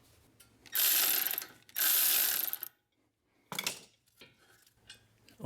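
An electric ratchet whirs in two loud bursts while removing a brake caliper bolt on a Honda CR-V, followed by a pause, a shorter rattle of metal and a few quieter clicks.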